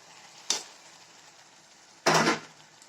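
Fried potato and ridge gourd pieces go into a pan of spice masala that has been cooked down until the oil separates. A short clatter comes first, then a louder burst of sizzling.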